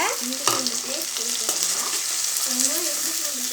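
Ginger garlic paste frying with small and large onions in a pan for mushroom gravy, a continuous close sizzle with spatula stirring and occasional scrapes and clicks.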